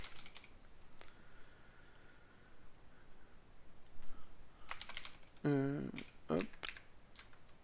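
Programming code typed on a computer keyboard: scattered key clicks, then a quick burst of fast clustered keystrokes near the end, with a brief spoken interjection among them.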